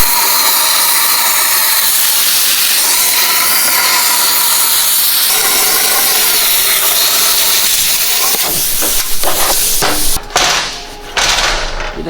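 A harsh, steady hiss of a cutter slicing metal from an El Camino body runs loud and close for several seconds, then breaks into scraping clatter and short bursts near the end.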